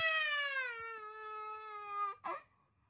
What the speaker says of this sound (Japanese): 赤ん坊の声が聞こえてきます